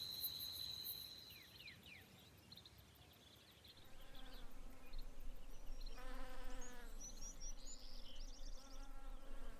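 Bees buzz faintly in a quiet outdoor setting near Devil's River, Texas, with insect drones rising and fading while birds chirp softly in the background.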